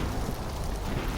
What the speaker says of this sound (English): Wow, those are some big explosions.